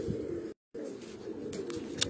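A pigeon coos from a rooftop in low, throaty rolls, broken by a brief gap of silence and then continuing softly.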